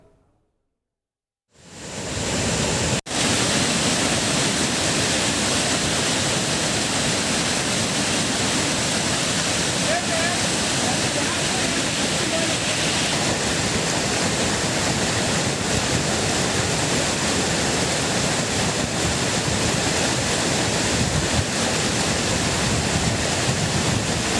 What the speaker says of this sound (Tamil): அருவியில் தண்ணீர் ஆர்ப்பரித்து கொட்டும் காட்சியை தற்போது பார்க்கலாம்